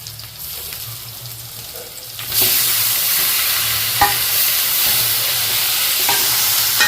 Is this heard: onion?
yes